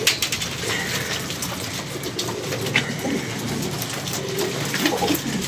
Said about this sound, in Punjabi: ਇਹ ਕਬੂਤਰ ਚੈੱਕ ਕਰੋ, ਇਹ ਸਭ ਮੇਰੇ ਉੱਡੇ ਹੋਏ ਨੇ